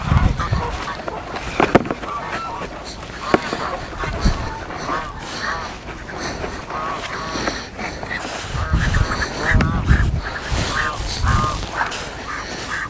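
Duck quacking at a lake during method feeder fishing, bird calls rising and falling over an open outdoor background with some nearby handling noise.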